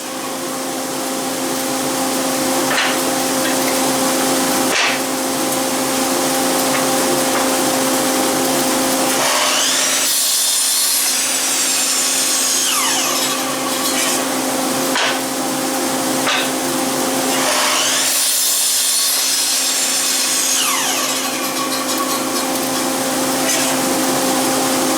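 A woodworking machine machines a cabinet door rail with a steady loud whine throughout, swelling twice into harsher bursts of cutting noise.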